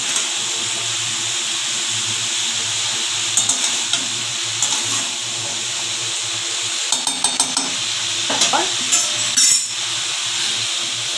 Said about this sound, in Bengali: পরিমাণ মতো চিনি দিলাম, দিয়ে নাড়াচাড়া করলাম।